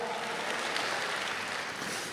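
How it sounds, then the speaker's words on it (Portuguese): Church congregation applauding during a worship service, a steady broadband patter of many hands clapping throughout, dense and continuous at moderate volume. "Pode dar uma salva de palmas"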